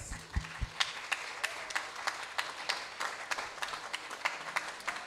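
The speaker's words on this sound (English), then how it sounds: "just give them a round of applause" A church congregation claps in a round of applause for the men, scattered hand claps at moderate distance forming a fairly quiet, uneven ripple, with a few low thumps near the start.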